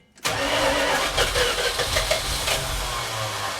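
A 1979 Dodge Power Wagon, abandoned for 25 years, cranks over loudly with a little gas poured down the carburetor, a close, rough churning that runs from just after the start and pulses unevenly without settling into an idle.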